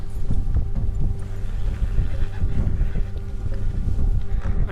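Horse hooves clip-clop steadily over wind and outdoor ambience in the Western open-world game Red Dead Redemption, with a possible whinny; the hoofbeats stay fairly loud and continuous throughout.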